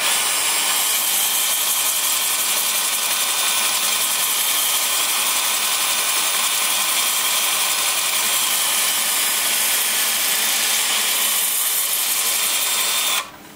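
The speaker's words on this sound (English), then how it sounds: "with the lathe spinning in reverse at about 340" A wood lathe running in reverse at about 340 rpm while a turned piece is sanded, giving a steady, loud, unbroken hiss and whir that holds evenly before cutting off abruptly at the end.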